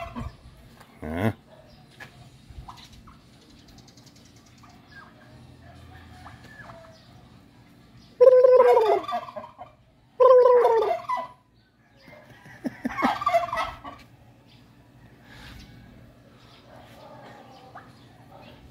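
Farmyard turkeys gobble in three separate bursts spaced a couple of seconds apart, fairly near, against a quiet background with a few faint clucks and stirrings in between.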